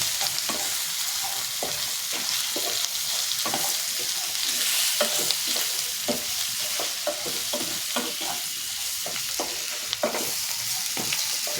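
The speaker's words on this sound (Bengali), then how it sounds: "এটা একটু খুব ভালো করে কষে নেব।" A fish head ghonto with puffed rice is stir-fried in a pan, a dense constant sizzle with rapid rhythmic stirring scrapes throughout, close and fairly loud, with no talk.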